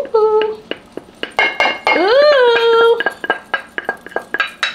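Dishes and utensils clink and knock repeatedly in quick, uneven taps while meatloaf is assembled into a pan, with a brief squeaky tonal sweep in the middle.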